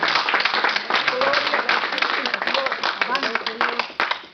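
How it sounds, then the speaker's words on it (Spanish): A church congregation claps in praise to the Lord, steady and fairly loud for several seconds, while a preacher's voice carries on over the applause. "Denle un aplauso al Señor, iglesia"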